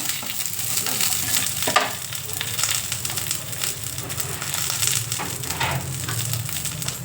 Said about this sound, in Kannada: ನಾವು ಪುದೀನಾನ ಹುರ್ಕೋಬೇಕು